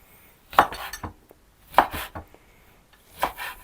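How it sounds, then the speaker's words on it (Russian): A knife chops a lemon into large chunks on a cutting board, three separate sharp cuts spaced about a second apart, close and distinct with no talking. "лимончик должен быть нарезан крупно"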